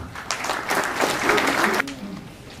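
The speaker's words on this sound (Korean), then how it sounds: "박수로 맞아주시기 바랍니다." Audience at a press briefing held in a conference hall applauds to welcome a speaker, a steady burst of dense clapping that lasts about two seconds before fading.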